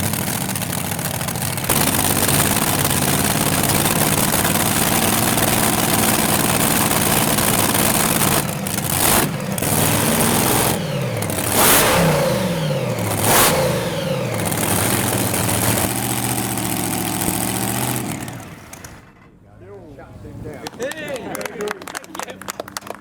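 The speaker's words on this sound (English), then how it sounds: "The twin V8 tractor has just started up." A twin V8 tractor at an outdoor car show fires up and runs loud and rough, revving repeatedly with bursts of acceleration before dropping away near the end, with crowd noise around it.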